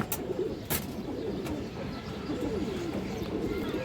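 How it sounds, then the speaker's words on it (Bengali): Pigeons coo steadily at a pigeon sale, including a large black-necked female, with a dense, continuous murmur of overlapping coos, a few sharp clicks, and a faint voice in the background. "মাদি একটা কালো গলা মাদি কৌতর বড় সাইজের একটা কালো গলা মাদি"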